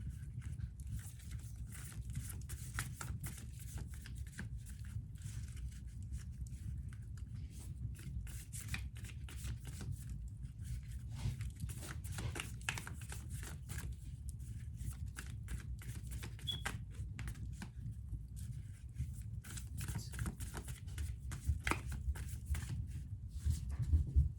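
A crisp, steady riffling of brand-new tarot cards being shuffled over and over, close by, with a low background rumble and no talking.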